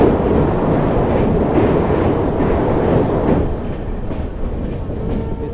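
The Ferozepur Cantt–Delhi Vande Bharat Express passing close by on the track, heard from another moving train as a loud continuous rumble and roar of wheels that eases slightly toward the end.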